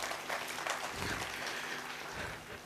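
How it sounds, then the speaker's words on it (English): Audience applause for a panel of experts, a faint, even wash of clapping from a crowd heard at a distance, steady over a few seconds with no speech. "Please give them a round of applause."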